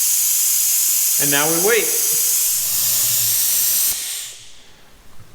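Steady, loud hiss of an oil extractor drawing differential oil from the rear differential of a 2013-2019 Ford Escape, running continuously before fading out near the end, with someone speaking briefly over it.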